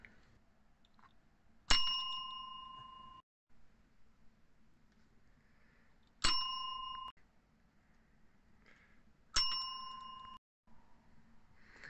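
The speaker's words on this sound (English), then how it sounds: "Another important accessory for a caravan is, along with the supply of beer, is a bell, like this" A hand bell in a caravan rings three separate times, each a bright, clear ding that rings on and fades, with quiet pauses between and no talking.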